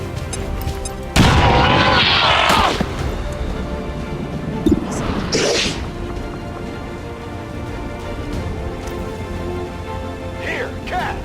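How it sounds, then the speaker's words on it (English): In the video game XCOM 2, a grenade explodes with a loud, close blast and lingering crackling debris, followed by smaller booms and rumbling in the background. "Throw grenade!"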